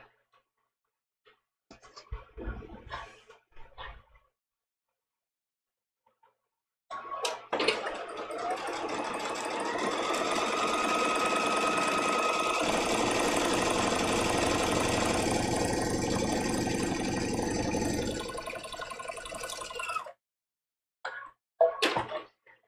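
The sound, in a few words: sewing machine running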